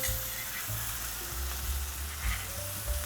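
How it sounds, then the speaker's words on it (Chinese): A burger patty fries in a pan just used for searing foie gras, making a continuous close sizzle with occasional soft spatula and pan bumps, and no voices. "我刚用煎鹅肝的这个锅子，再继续煎这个我们的汉堡肉"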